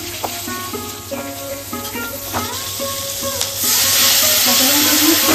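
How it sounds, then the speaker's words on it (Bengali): Black cumin and then green chillies drop into hot oil for a bata fish mustard curry, starting as a moderate crackling sizzle that swells into a louder, denser hiss partway through. "ফোড়ন দিয়ে দিচ্ছি কালো জিরে, এরপরে দিয়ে দিচ্ছি কাঁচা লঙ্কা।"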